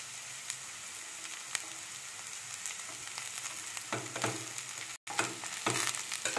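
Chopped cabbage frying with onions and dried red chillies in a pan, a steady hiss throughout with a few scraping stirs toward the end and a brief gap partway.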